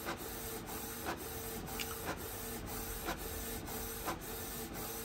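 A Canon MG3070S inkjet printer prints with a steady, faint mechanical whir broken by regular clicks of the carriage about twice a second, alone without talk.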